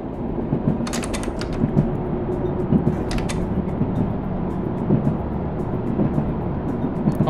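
Diesel railcar in a mountain passenger-run video game pulling with the throttle open: a steady low engine rumble and rolling drone throughout, with occasional brief mechanical clicks and rattles, no talk.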